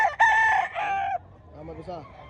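Rooster at a gamecock expo in Mantalungon, Barili, Cebu crows once, close and loud, a strained harmonic call cutting off after about a second, with faint voices and crowd murmur underneath.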